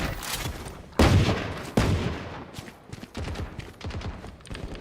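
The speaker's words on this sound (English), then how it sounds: "They shot my wingman." Gunfire in a shooter video game comes in loud, close bursts: a heavy volley, then a second sharp burst, followed by scattered lighter shots and rattles.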